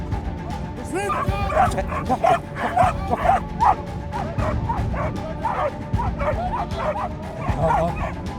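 A tracking police K9 dog yips, whimpers and gives short barks in an excited, uneven series close by outdoors, with a voice talking over it.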